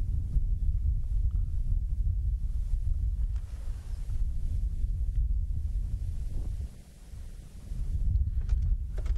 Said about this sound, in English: There's, there's a, a breeze blowing.